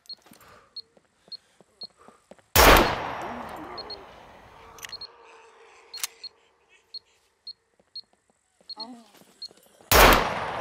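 Desert Eagle pistol gunfire in the Scum video game: two loud booming shots several seconds apart, each with a long echoing tail, among small game clicks and faint background effects.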